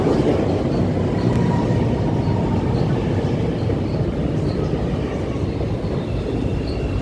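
Riding a Chicago train, a continuous low rumble of the car moving along the tracks, steady and enveloping throughout with no talk over it.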